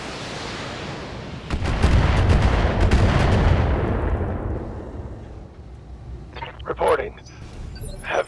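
Robot weapons firing in a video game, a loud rolling barrage of heavy blasts swelling then fading into a rumbling tail, with a voice speaking briefly near the end.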